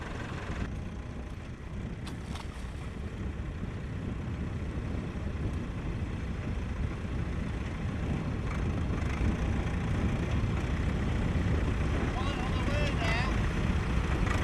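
Tractor engine labouring steadily on sand at Hest Bank while pulling another stuck tractor, a continuous loud low rumble with wind buffeting throughout and voices talking over it.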